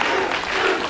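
A studio audience at a game show premiere claps in a brief, dense burst of applause, heard alone.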